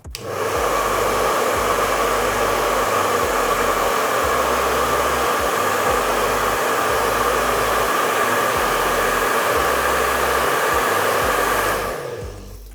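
A hair dryer blows steadily and loudly over a watercolor painting for about twelve seconds, a constant broadband roar with a low hum beneath, then switches off abruptly near the end.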